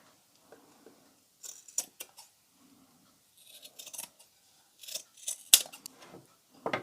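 Scissors snip through excess netting on a beach-themed shadow box craft, a series of crisp close cuts in short bursts separated by pauses, with no one talking.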